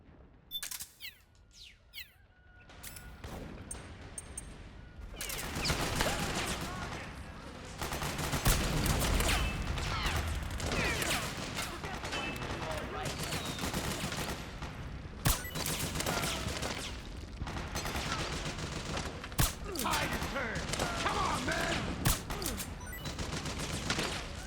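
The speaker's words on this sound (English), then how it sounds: "Gunshots are a bit loud." Gunfire in the stealth action video game Metal Gear Solid 4, with dense bursts of shots running nearly throughout over steady game noise, loud and close, with no talk.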